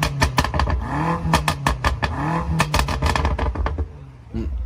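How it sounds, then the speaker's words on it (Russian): A BMW M5 sports car with a loud aftermarket downpipe exhaust in M mode revs repeatedly in sharp bursts, each blip rising and falling quickly with crackling pops, very close and loud. "Давай опять выхлоп чуть покажи"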